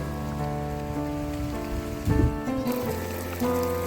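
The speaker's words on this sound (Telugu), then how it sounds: "ఫుల్గా అయితే వర్షం పడుతుంది" Heavy rain pours down steadily in Bhopalpatnam village, a dense wash of noise with a low droning hum running underneath throughout.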